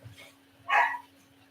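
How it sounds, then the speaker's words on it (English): A puppy gives a single short, high whimpering cry near the middle, fairly close and distinct, over a low steady hum. "There's pup crying"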